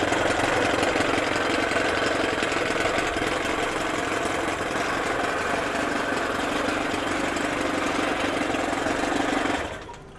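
A Johnson 9 outboard boat motor idling during idle-speed adjustment, a close, steady mechanical putter that holds an even rhythm for about nine seconds before the engine cuts out and falls quiet.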